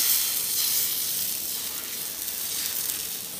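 Rava dosa batter topped with onion sizzles in oil on a hot pan, giving a steady, bright frying hiss that runs close and continuous with no voices.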